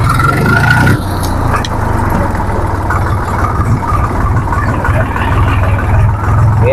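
A Swaraj 735 FE tractor engine idles close by, a heavy low throb with steady rhythmic pulsing and a faint scrape near the start, running alone without any voice.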